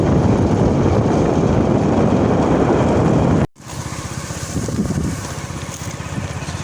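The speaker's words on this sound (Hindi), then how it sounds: "थोड़ी सी हवा भी ज़्यादा है तो फिर आप लोगों की शायद आवाज़ क्लियर ना मिल रही हो" Steady wind roar buffets the microphone while riding a motorbike along a rough rural road beside a canal, loud and continuous, then briefly cuts out and returns slightly softer with engine rumble underneath.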